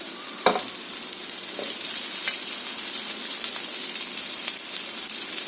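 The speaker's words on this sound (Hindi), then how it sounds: "इसको अच्छे से सॉटे कर देंगे" Tri-colour capsicum sizzles steadily in hot oil while being sautéed for baby corn Manchurian, with a constant frying hiss and an occasional clack of the stirring utensil.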